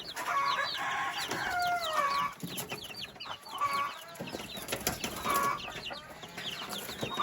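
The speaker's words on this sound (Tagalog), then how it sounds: "At ito naman yung mga sisiw. Ayan, yung mga sisiw na bagong umpisa. 3 days old." Chickens and three-day-old chicks on a farm, with steady clucking and peeping, occasional rooster crowing and repeated bird calls throughout, close and fairly loud with no speech.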